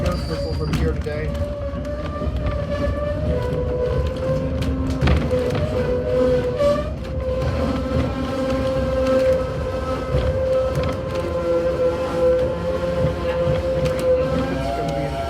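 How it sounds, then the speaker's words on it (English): At a Day Out with Thomas railway event, a passing train sounds a long, steady horn over continuous rolling rumble, with people talking nearby throughout. "I hear another train."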